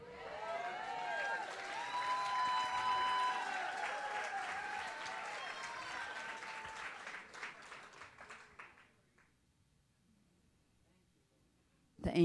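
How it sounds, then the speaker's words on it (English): A crowd at a Christian conference claps and cheers in a steady burst of applause that gradually thins out and fades to quiet. "The angels are clapping."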